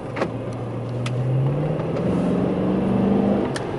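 Dodge station wagon R/T with a Hemi engine accelerating from inside the cabin, a steady engine tone rising smoothly in pitch over a few seconds, moderately loud with road and cabin noise.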